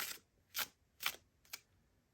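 A tarot card deck is shuffled in four quick, crisp riffling bursts about half a second apart, close and fairly quiet, with no talking.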